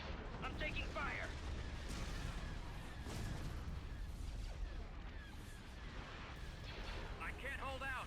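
Continuous barrage of blaster fire and explosions in a Star Wars space battle game, a dense rumbling wash with bursts of laser-like zaps, while voices talk over the fighting.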